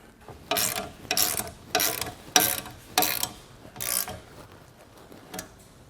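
A hand ratchet clicks in about seven sharp, evenly spaced bursts while tightening Aries roof rack mounts on a 2013 Jeep Wrangler hardtop, close and clear with no talk.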